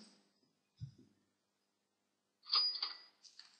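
A soft thump, then a quick Microsoft PowerPoint 2010 cash register sound effect ringing with clattering, chiming bursts, fairly faint and close.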